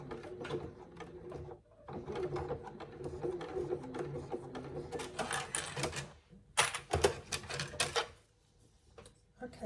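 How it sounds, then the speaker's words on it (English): A sewing machine stitches a parallel line along the strap of a zip pouch, a close, steady mechanical whirr with rapid needle clatter that cuts off, then returns in a few short bursts. "And then you can just secure it in place with another parallel line of stitches"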